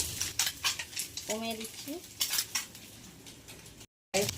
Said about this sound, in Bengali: মাছ ভাজাটা হয়ে আসছে